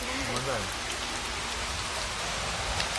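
Steady rain falls in a dense, even patter on surfaces nearby, continuous and fairly loud, with a faint voice briefly heard under it at the start.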